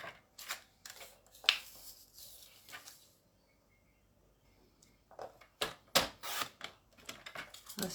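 Paper is cut for a beginner's scrapbooking photo board, with quick papery snips and rustles in two clusters separated by a quiet pause, heard close and without speech.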